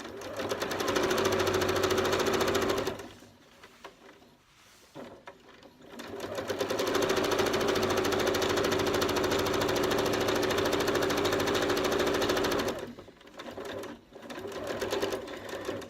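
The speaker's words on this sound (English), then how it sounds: "Keep going round." Sewing machine stitching bias binding onto fabric, a rapid mechanical chatter in long runs that pause briefly between stretches of stitching, close and steady with no speech over it.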